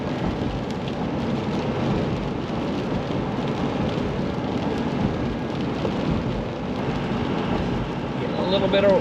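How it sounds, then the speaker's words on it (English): Rain patters steadily on a 1964 Ford Galaxie 500XL while it drives near Fort Benton, Montana, a dense continuous hiss over low road rumble, fairly close and even throughout. "Getting a little bit of wetness now, a little bit of rain."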